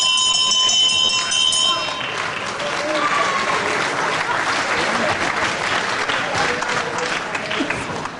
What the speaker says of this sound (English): the bell will save McGregor from much more problem in this round